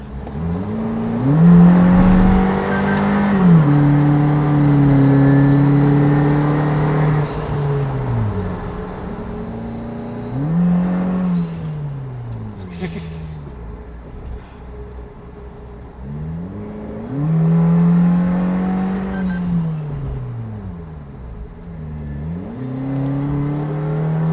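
A 150 hp turbocharged Suzuki Jimny being driven hard, its engine rising through the revs in repeated loud sweeps with gear changes between pulls, heard close and steady with no voices over it.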